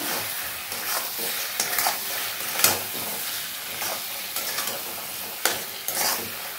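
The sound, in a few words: stirring turmeric powder into frying chicken gizzard and mushroom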